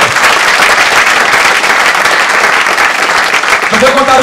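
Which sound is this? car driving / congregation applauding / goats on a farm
congregation applauding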